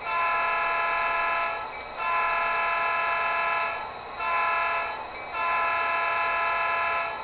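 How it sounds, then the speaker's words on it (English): A steam train whistle blows a long blast, another long, a short toot, then a long final blast, loud and close with brief gaps between. "Listen for its whistle. It's going to be 2 longs, a short, and a long, like this."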